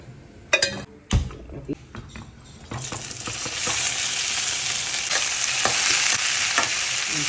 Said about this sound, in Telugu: రెండు స్పూన్ల ఆయిల్ వేసుకొని బెండకాయ ముక్కలు బాగా వేయించుకోవాలి